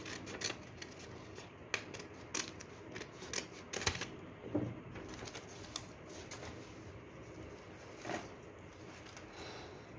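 Scissors cutting through folded paper in a craft project, a series of close, crisp snips and rustles at irregular intervals, quiet and without talk.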